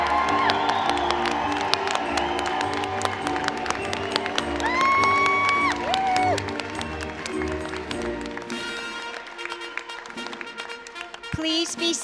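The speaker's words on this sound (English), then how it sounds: "Let's cheer for all of our students" Crowd cheering and whooping for pharmacy students at a college white coat ceremony, loud and sustained, with music playing underneath, shouts and whistles rising before it fades out toward the end.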